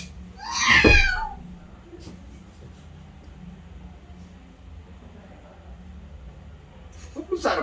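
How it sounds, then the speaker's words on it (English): Sharp, brief cat yowl played as a stage sound effect in a musical, loud and strained near the start, then a quieter second cry at the end over low background noise. "Sounded like the agony of the damned. It's a cat."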